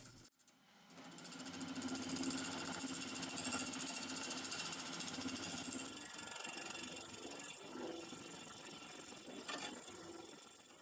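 Wood lathe spinning a blank of wood and epoxy resin cut with negative rake carbide bits, a loud continuous rattling hum that starts up after a brief quiet moment and runs steadily without voices.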